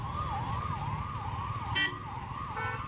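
An ambulance carrying a patient, sent by traffic police onto a service road, sounds a loud wailing siren that rises and falls steadily over continuous road traffic noise, with a couple of brief horn-like tones near the end.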